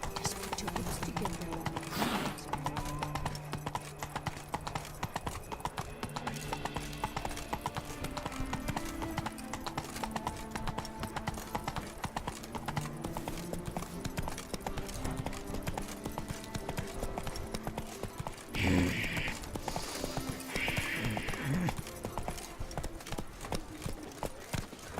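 Roach, the horse in The Witcher 3: Blood and Wine, gallops with a steady, rapid clip-clop of hooves that runs through the whole stretch, with a brief whinny-like burst near the end.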